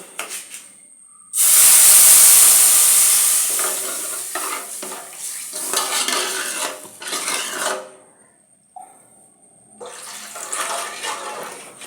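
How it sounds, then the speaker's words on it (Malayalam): Second coconut milk poured into roasted semolina in a pan for jaggery rava payasam, a loud burst of sizzling and bubbling followed by stirring and scraping of a utensil against the pan, with no talking. "രണ്ടാം പാല് ഒഴിച്ചു കൊടുക്കാം."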